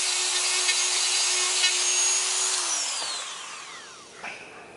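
A Dremel 3000 rotary tool runs at a steady high whine while cutting, then spins down with a falling pitch near the end, loud and close with no talk.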